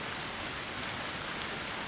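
Light rain in Gdańsk falls as a steady, even hiss of fine drops, with no voices or other sounds over it.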